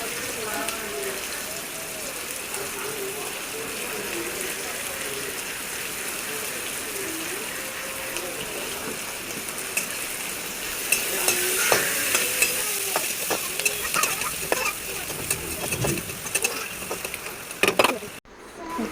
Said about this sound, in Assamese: তেলখিনিত কাটি থোৱা পিঁয়াজ, ৰহুন, কেঁচা জলকীয়া দি অলপ লৰাই ল'ম।